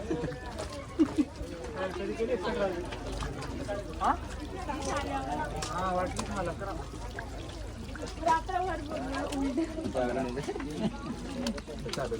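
A waterfall on a monsoon trek at Lohagad Fort near Lonavala gives a steady rush of pouring water, continuous in the background while people talk over it.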